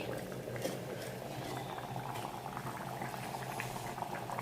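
Mutton gravy simmers in a clay pot, bubbling steadily with a continuous soft popping and gurgling, close and moderately quiet, with no talk over it.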